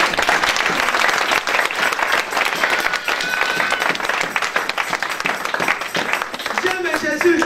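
A church congregation at a worship service applauds in dense, continuous clapping that stays loud and even throughout, with voices mixed into the crowd noise.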